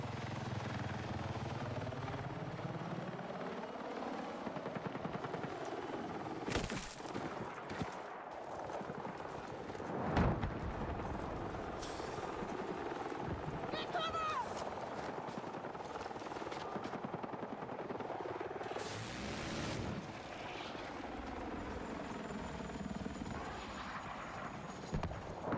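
A helicopter in a military video game holds a steady, droning rotor beat throughout, with scattered game effects and brief knocks on top and no speech.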